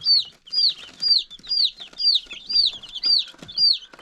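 Young chickens calling indoors after the light has been dimmed, a steady series of about eight loud, high, downward-sliding peeps repeating roughly twice a second, close by and with no talk over them.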